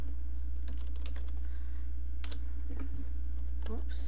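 Typing into Notepad on a computer keyboard, a handful of sparse, soft key clicks over a steady low electrical hum, with a faint voice briefly audible near the end.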